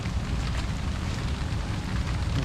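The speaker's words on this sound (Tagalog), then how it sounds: "Malakas na may ulan." Heavy rain pours in a dense, steady roar, unbroken from start to end.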